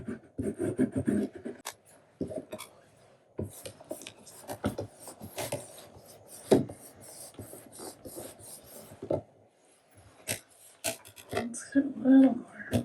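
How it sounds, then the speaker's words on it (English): An embossing dauber rubbed over a rubber stamp, producing soft, intermittent dabbing and scuffing close by, quiet and irregular, with a person talking at times between the strokes. "I'm going to use the embossing dauber and go over this stamp."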